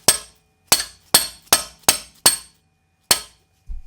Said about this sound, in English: I just get a little rubber mallet just to make sure it's seated in.